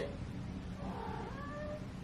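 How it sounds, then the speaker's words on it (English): A house cat gives a drawn-out meow that rises and falls, heard close in a quiet indoor room with a person speaking softly around it. "You're meowing."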